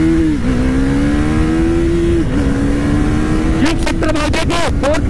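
A 2024 KTM Duke 390 BS7 with a quickshifter accelerates hard, its loud, close engine drone climbing steadily with brief dips at gear changes and rushing wind noise throughout.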